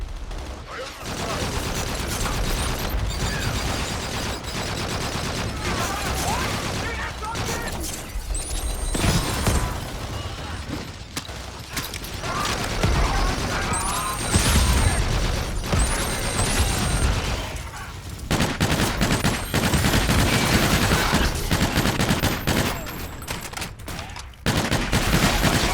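Rapid aircraft cannon bursts from a strafing gun run in Call of Duty: Infinite Warfare, dense rattling fusillades that repeat across the stretch, loud and sustained, with radio chatter mixed in.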